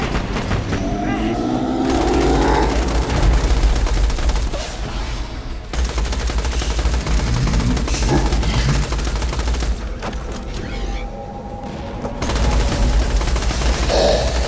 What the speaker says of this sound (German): Jetzt müssen wir die andere Maske kaputt schießen.